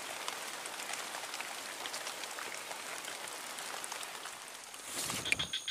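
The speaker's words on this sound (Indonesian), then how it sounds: "Aduh, hujan lagi teman." Rain patters steadily on a fishing spot, a dense even hiss of drops on surfaces throughout, with a slightly louder splash near the end.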